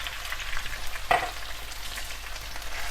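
Chicken with two tablespoons of ginger garlic paste fries in a pan, a steady close sizzle with soft stirring scrapes and one brief clink, with nobody speaking.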